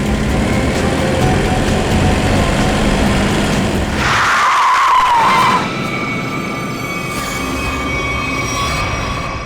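A car skids to a sudden stop in a near collision, with a loud, sharp tire squeal rising out of steady road rumble, then dropping back to a lower hum.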